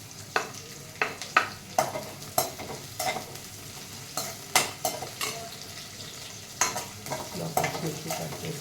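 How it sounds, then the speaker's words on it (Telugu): Onions and green chillies fry in a pan for vegetable fried rice, with a spoon scraping and clinking against the metal in a steady rhythm over a low sizzle, close and fairly quiet. "ఇది వేగుతుంది, మనకు ఆనియన్స్ వేగుతున్నాయి."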